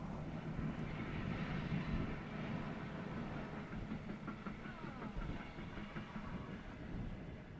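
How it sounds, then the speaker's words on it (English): An old locomotive passes hauling carriages, a continuous loud low rumble and clatter of wheels on track that holds steady throughout with no voices over it. "if you come to this location, you'll see an old train go past like that"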